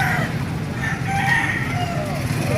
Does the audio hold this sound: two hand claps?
no